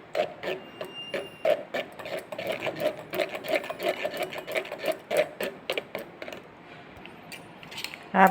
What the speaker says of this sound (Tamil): தண்ணி ஊற்றி மிக்ஸி ஜாரில் திருப்பி ரன் பண்ணுங்கள்